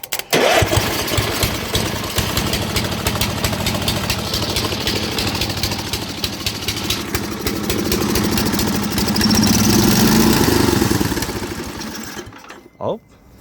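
A Murray riding mower's small engine cranks, catches and runs on choke. It gives a loud, steady buzzing drone that surges louder toward the end before cutting off abruptly, followed by a short final burst.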